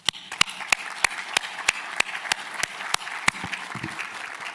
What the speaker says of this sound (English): I want to just give you all a round of applause